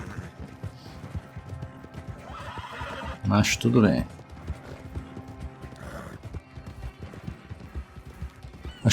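In the Red Dead Online video game, a horse gives a loud, drawn-out whinny midway through, over steady clip-clopping hooves and game ambience, while someone talks briefly.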